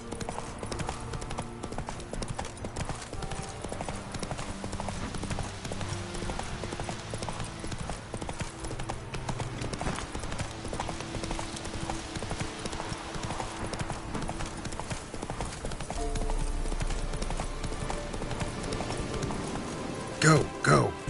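Roach, the horse in The Witcher 3, gallops with steady rapid hoofbeats under a continuous game soundscape, while a voice speaks over the run and a couple of louder thumps close the clip.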